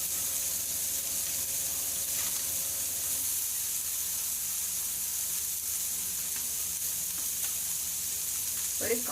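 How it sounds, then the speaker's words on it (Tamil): Tomato masala with chilli, coriander and garam masala powders fries on low flame, a steady close sizzle running throughout with a brief stir or clatter at the end. "இது மூணையும் சேர்த்து லோ ஃப்ளேமில் வச்சு நல்லா ஃப்ரை பண்ணிக்கோங்க"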